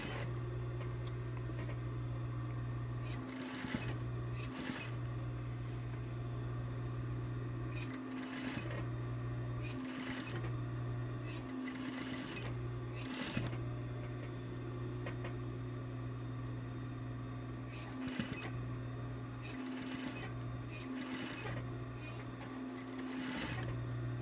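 A sewing machine stitches fabric along a curve on a five-panel piece, running in several steady bursts broken by short pauses, close and clear with no talking.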